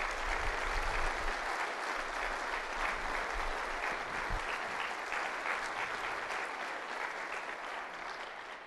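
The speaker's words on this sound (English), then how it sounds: "Let's give them a round of applause." A large convocation audience applauds new faculty members, a full, even round of clapping that holds strong and then slowly fades toward the end.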